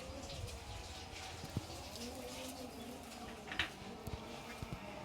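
Mili racer pigeons, a racing pigeon breed, give soft, low cooing murmurs from a loft. The scene is quiet overall, with a few faint knocks and rustles.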